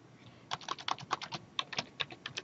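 A user ID and password are typed on a computer keyboard: a quick run of close, crisp key taps, fairly quiet, with short irregular pauses and no talking.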